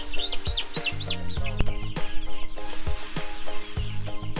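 Free-range chicks peep and cluck steadily in a grower house, a flock of small birds chirping in overlapping bursts with some clucking fowl, close and moderately loud.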